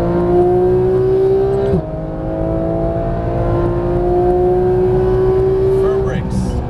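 A car's engine drones steadily and climbs in pitch as it accelerates, then eases and builds again, heard from close inside the vehicle during a performance-driving session in Las Vegas.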